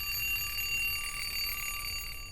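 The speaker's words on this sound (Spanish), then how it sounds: "sonó la alarma de mi celular y los lamentos cesaron." A mobile phone alarm rings steadily at night, a faint continuous electronic tone held throughout without pause or talk.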